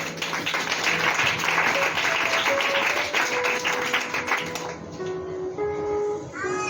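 A church congregation claps and cheers in praise, a dense wash of applause that fades after a few seconds, leaving sustained keyboard tones ringing alone.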